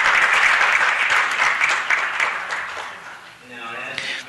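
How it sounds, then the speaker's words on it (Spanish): Audience applause at a city council meeting, a dense, sustained wash of clapping that fades near the end as a voice begins speaking. "Vamos a darles una ronda de aplausos."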